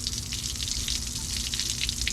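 Water from a garden hose gushes and splashes steadily as it flushes out of the block of a Ford Ranger 4.0 engine through the water pump, a close, continuous hissing spatter.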